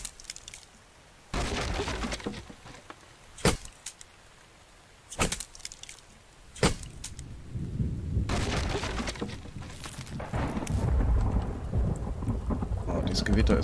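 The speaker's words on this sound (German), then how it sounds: "Das Gewitter ist wieder so geil." Thunderstorm with rain in the survival video game The Infected: steady rain hiss throughout, several sharp thunder cracks early on, then a rising, heavy rumbling roll of thunder building toward the end, with no talk.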